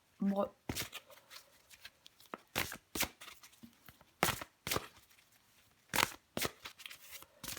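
Tarot cards shuffled close up in repeated crisp riffling bursts, about a dozen sharp flutters with brief pauses between them, with a short spoken word at the very start.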